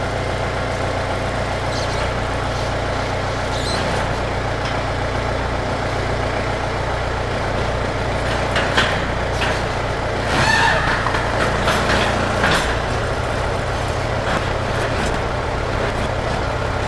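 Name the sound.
tractor engine running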